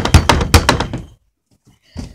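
Someone inside a locked shed hits the wooden door from within, making heavy, close thuds in a quick series and then one more thump after a short pause.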